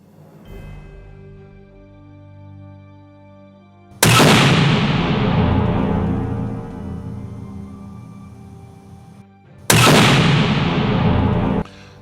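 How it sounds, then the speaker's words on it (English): An over-and-under shotgun is test fired twice in a factory tunnel, each loud blast followed by a long echoing decay, spaced several seconds apart after a quieter hum. "So, Steve, we just had a test firing here down in the tunnel."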